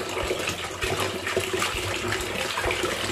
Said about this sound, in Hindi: फिर एक बार अच्छे से धो लेती हूँ।